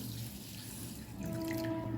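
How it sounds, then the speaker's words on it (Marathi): Water runs from a tap steadily onto basmati rice, then the flow shifts into a fuller splashing as it fills the container, with a faint ringing tone under the stream. "2 वाट्या बासमती तांदूळ घेतलेत, त्याच्यामध्ये पाणी टाकते."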